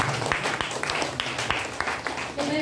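A live audience at a presentation event breaks into applause, a scattered patter of claps with some light voices underneath, steady and moderately close for a few seconds.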